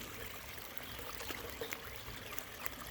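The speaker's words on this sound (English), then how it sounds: "It gives it a bit of a babbling brook feel" Water of a stream flows steadily over a rock weir with a few rocks set behind it, a continuous close babbling wash with faint brief trickles and splashes on top.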